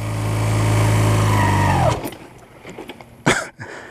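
A motorcycle engine idles with a loud, steady drone whose pitch sags and fades, followed by quieter engine rumble and a brief sharp mechanical burst near the end.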